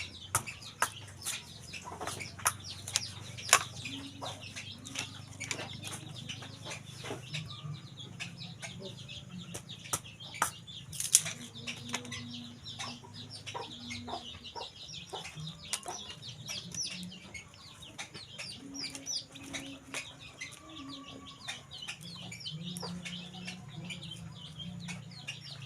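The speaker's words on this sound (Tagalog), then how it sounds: "Kanang manok." Chickens cluck and squawk in a farmyard, with frequent sharp calls and short bursts over a steady low background, fairly close and irregular throughout.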